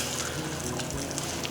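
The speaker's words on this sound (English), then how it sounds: "turn on the hot water" Hot water runs through the plumbing of a Winnebago EKKO Sprinter 23B RV from an outside hose connection, a steady close hiss of flowing water with no breaks.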